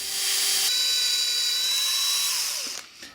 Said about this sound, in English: So I'll drill and tap it a little bit deeper and hopefully not bust through to the other side of the case.